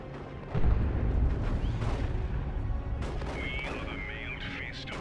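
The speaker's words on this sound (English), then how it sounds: "Nice grenade there." A grenade blasts in a Dawn of War 2 match with Hormagaunts on the field: a sudden heavy boom early on, then a rumbling tail of battle noise and chirpy unit effects.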